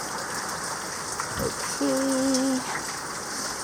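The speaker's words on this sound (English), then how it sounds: "This cactus is starting to flower, but it's getting rained on." Rain falling on potted succulents and a flowering cactus during a typhoon, a steady dense hiss throughout with a brief sliding tone, a short bright hum and a voice speaking one word.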